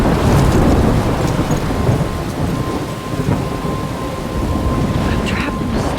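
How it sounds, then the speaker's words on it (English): A thunderstorm in the game Life is Strange: heavy, steady rain pours over deep rolling thunder that fills the whole stretch, loud and close, with no one speaking. "I'm trapped in a storm?"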